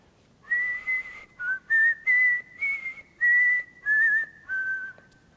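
Nursery rhyme-style whistled melody within a song, a clear solo whistle of short phrases with brief pauses between notes, close and alone.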